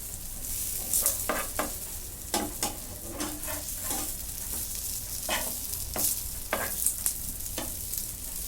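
Chickpea chana kebabs shallow-fry in a little oil over a low flame and are turned to brown both sides, a soft continuous sizzle punctuated by repeated spatula scrapes and crackling bursts, with no talking.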